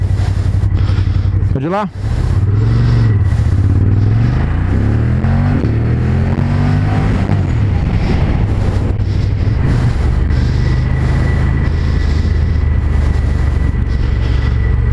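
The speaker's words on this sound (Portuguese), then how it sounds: "Vamos lá, galera, dar mais uma voltinha de Monster aqui." Ducati Monster motorcycle lapping a race circuit on Pirelli Diablo Rosso 3 tyres, its engine droning and revving through rising and falling pitch sweeps, with a sharp burst near the start and people talking over it.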